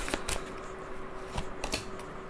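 Tarot cards are shuffled and shifted by hand, making quiet, crisp riffling bursts and soft slides in a few separate clusters over a faint background.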